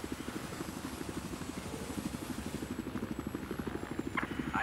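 In Battlefield 4, a game helicopter's rotor beats in a rapid, steady pulse over engine drone, fairly quiet and distant, with a brief bright crackle near the end.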